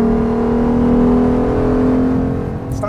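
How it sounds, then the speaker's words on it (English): A Porsche Panamera engine holds a steady, loud mechanical whine with a sustained tonal hum, easing off slightly near the end. "It just sort of has this mechanical whine to it."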